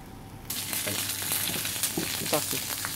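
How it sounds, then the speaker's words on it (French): Duck breast (magret) laid into a hot pan, breaking into a loud, close sizzle after a brief quiet start, with a few scrapes and spatters over the steady frying hiss. "On va faire cuire le magret."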